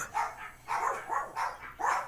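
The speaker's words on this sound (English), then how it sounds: "Well, my dogs are barking." Dogs barking indoors near a front door, four short, fairly loud barks in an uneven rhythm, with no talking.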